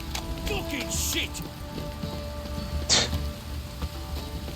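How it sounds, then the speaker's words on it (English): Steady heavy rain pours down in the video game The Witcher 3: Wild Hunt, with scattered drops and splashes, a dense hiss throughout, with a brief louder burst near the middle. "This downpour's a bastard, it is."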